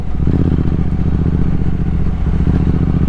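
A liquid-cooled Triumph Speed Twin 1200 twin engine rumbles loudly and close, a deep steady throbbing with a fast, even firing pulse and no voices.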